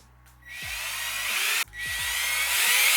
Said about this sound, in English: now I'm drilling into pine